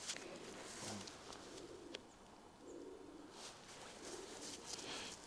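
Soft, low cooing from a female pigeon in a few short phrases, fairly close, over a background of faint rustling and light bird chirps.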